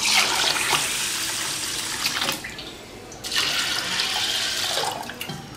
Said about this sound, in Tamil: தண்ணி ஊற்றிடலாம் ஊறுறதுக்கு